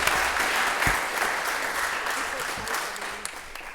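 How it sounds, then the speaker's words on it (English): Audience at a city council meeting breaks into sustained applause, dense overlapping clapping that stays fairly loud and even, with no speech over it. "I think that deserves a round of applause."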